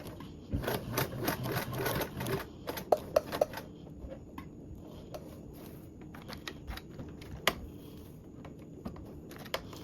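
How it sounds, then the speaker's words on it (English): Sewing machine stitching diagonally across a toiletry bag panel, short bursts of quiet needle rattling broken by pauses, clicks and handling noises, fairly faint and close, without speech. "now I'm going to sew down diagonally the other way, again lining up my panel"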